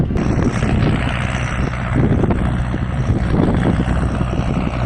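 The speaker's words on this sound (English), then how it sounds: "this tractor's breaking the clods down" A Massey tractor breaks down clods on a ploughed Suffolk field, a steady low engine drone heard up close and mixed with heavy wind buffeting the microphone throughout.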